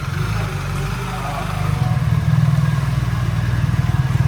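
A BMW motorcycle engine runs steadily nearby during a road test, a low throbbing putter that grows slightly louder partway through.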